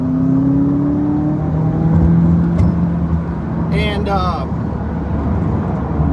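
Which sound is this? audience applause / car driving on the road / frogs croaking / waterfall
car driving on the road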